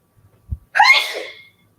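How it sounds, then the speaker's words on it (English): A single sharp sneeze from a woman indoors, preceded by a quick intake of breath, close and loud, then silence. "It's not the hood making me sneeze."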